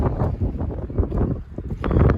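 Gusty wind buffets the microphone in uneven, rumbling bursts, loud and close, with no voices.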